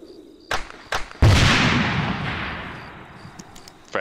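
A frag grenade explodes in the Arma 3 combat game, a loud close boom with a long rolling decay, preceded by two sharp short pops, in a cooperative firefight.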